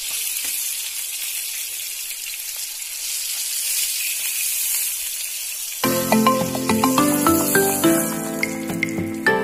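Chopped onions fry in hot oil left over from frying hilsa fish, a steady close sizzle and crackle; partway through, music with a clear beat starts playing over the frying.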